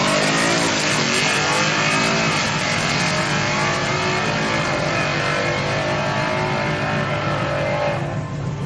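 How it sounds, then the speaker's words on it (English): A loud street car engine at a Friday night car meet revs hard and steadily for several seconds, close and dominant, with no talk over it. "This car over here is loud."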